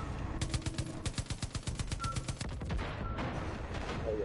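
Rapid automatic gunfire aimed at a charging bear in the Far Cry 5 video game, a quick rhythmic string of loud shots, a brief pause, then more bursts fading into a softer rumble.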